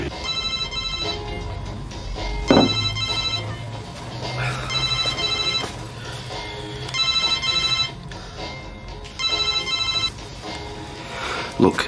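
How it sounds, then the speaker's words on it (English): A telephone rings in repeated bursts of electronic trilling, spaced evenly and fairly loud, while people talk between and over the rings. "So your phone keeps going."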